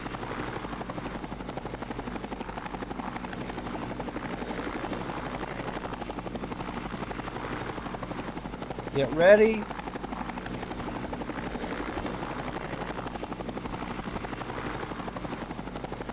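Helicopter from the Entropia Universe video game, a steady rotor drone running loud throughout with a brief louder swell near the middle and a short spoken line over it.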